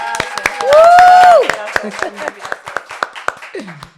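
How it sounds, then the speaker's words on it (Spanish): A small audience at a talk on managing fears claps for a guest speaker, a handful of sharp, distinct claps in an irregular rhythm, with a voice briefly sounding over them. "Un aplauso para ella"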